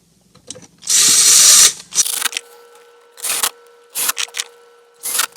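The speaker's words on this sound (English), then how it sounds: "Put all the screws back in." A power tool drives screws back in while a car head unit is installed in a VW GTI MK6. There are several short, close whirring bursts separated by pauses, and one longer burst near the start.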